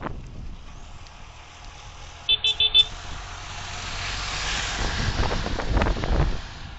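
A lorry overtakes a cyclist on a road. Its rumble swells up close over steady wind buffeting the microphone, after a brief burst of electronic beeps.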